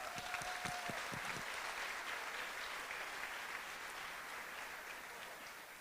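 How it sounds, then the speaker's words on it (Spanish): An audience applauds a large family with six or seven children, a steady, fairly faint wash of many clapping hands that runs the whole time and tapers slightly toward the end, with no talk over it. "Un aplauso para esta familia numerosa."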